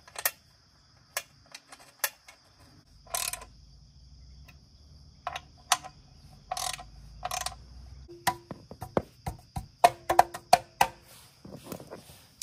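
A ratchet clicks in short, spaced bursts as skid plate bolts are tightened a little at a time, each run of sharp ticks close and clear against a quiet background, speeding up toward the end.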